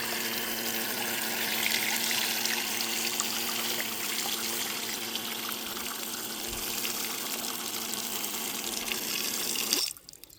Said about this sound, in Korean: 물이 나오는지 한번 보도록 하겠습니다.